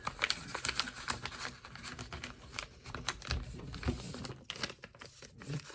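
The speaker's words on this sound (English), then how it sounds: "you grab the bottom point and fold it to the top" Paper being folded into an origami swan, with soft crinkles, taps and creases coming close and fairly quiet in an irregular rhythm, with no talk over them.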